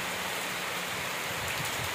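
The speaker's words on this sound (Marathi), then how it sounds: "या पुनर्वसन गावठणामध्ये हा पाऊस पडतोय." Monsoon rain falling steadily on a rehabilitation village in Vaibhavwadi, Sindhudurg, heard as a soft, even hiss of dense drops with no talking.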